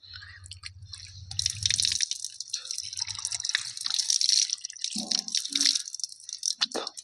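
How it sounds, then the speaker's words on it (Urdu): Water is poured and splashes during wudu ablution, with dripping and running from hands at a sink, near and fairly loud, in irregular splashes and trickles without talking. "اس کے بعد ہمیں 3 مرتبہ ناک میں پانی ڈالنا ہے۔"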